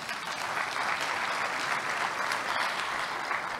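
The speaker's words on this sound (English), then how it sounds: "A final round of applause, please." Applause fills a conference hall after keynote remarks at a forum on national food systems, many hands clapping steadily at a moderate, slightly distant level with no voices.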